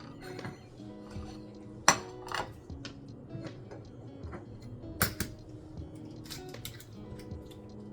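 Three eggs are cracked into a bowl of cake batter for a peaches and cream cheesecake, heard as a few sharp, close taps and clinks on the bowl among quieter kitchen handling noises.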